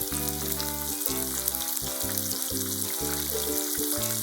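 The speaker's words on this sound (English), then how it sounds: "Fry the remaining chicken in the same way. Add chicken to oil." Oil sizzles and crackles steadily as chicken cartilage karaage deep-fries, a bright continuous hiss over a faint low musical background.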